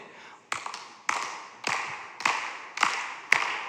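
A congregation at an Erev Shabbat service claps along in unison, six sharp evenly spaced claps about half a second apart, close and clear.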